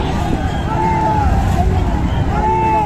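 A motor speedboat drones past at a boat race, its engine whine rising and falling under wind noise and a babble of crowd voices.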